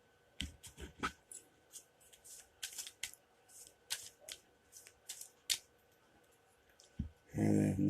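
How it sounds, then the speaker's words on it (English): A deck of cards is shuffled and cut by hand close up, crisp riffling snaps and soft clicks in uneven bursts, ending with a louder rustle as the deck is handled. "And then another quick shuffle. And then cut the deck."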